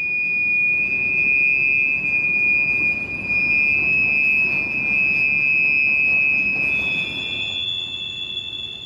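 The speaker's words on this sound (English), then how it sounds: "The rotary hoppers screaming as they round the curve." Piercing, sustained metallic squeals from rotary hopper cars' wheels grinding around a curve on a phosphate mine railway, two high tones over a low rolling rumble, loud and continuous.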